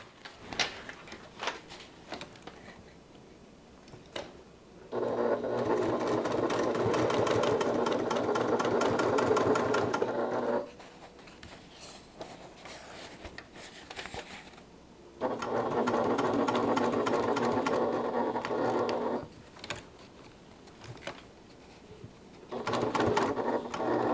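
Domestic sewing machine stitching fabric in two long, steady runs of rapid mechanical whirring and ticking, each lasting several seconds, separated by quieter pauses with light handling clicks, close and clear with no talking.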